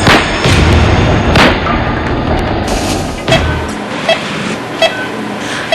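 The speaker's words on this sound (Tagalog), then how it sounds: "Ilang sandali lang, 2 putok ang umalingaw-ngaw." Several sharp, loud bangs like gunshots outside a university gym, spaced irregularly over a rumbling background, followed by fainter knocks.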